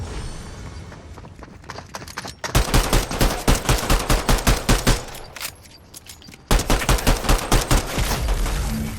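Rapid automatic gunfire from the video game Fortnite, loud and close, arriving in two sustained bursts of evenly spaced shots separated by a short quieter lull, with no voices.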